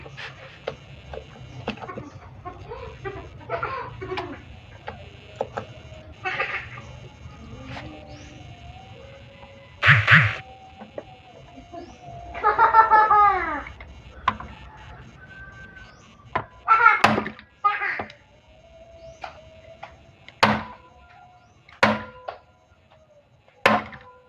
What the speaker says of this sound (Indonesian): Setelah dilakukan sedikit pukulan menggunakan obeng getok